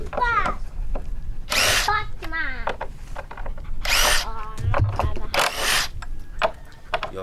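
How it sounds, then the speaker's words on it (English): A cordless drill driver whirs in several loud bursts while backing screws out of a wooden gate, with short pauses between runs and a voice heard briefly. "So we have a drill driver."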